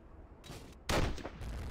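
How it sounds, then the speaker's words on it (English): Gunfire in an online shooter game, a distant burst of shots followed by a louder, closer crack and a sustained rumbling roll of fire, over a muffled game ambience. "Yeah, we're getting shot at right now."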